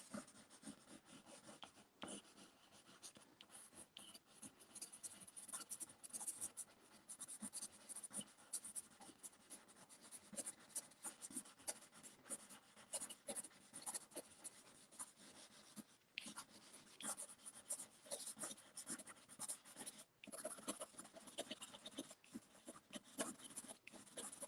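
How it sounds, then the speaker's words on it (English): A pencil scribbles across paper in continuous, close, scratchy strokes without lifting, sketching tiny flower heads for moody monotypes. The strokes rasp softly and steadily with no talking. "nice scribbly actions, not really taking my pencil off the paper."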